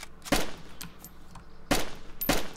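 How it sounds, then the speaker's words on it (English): Three loud, sharp gunshots ring out in a video game gunfight, two of them close together near the end, over a quieter bed of distant popping fire. "Oh, he's shooting at me, he's shooting at me."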